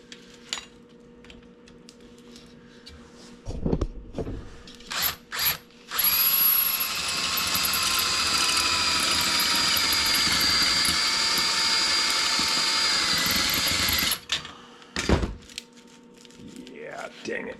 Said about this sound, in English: The drill is not the greatest either.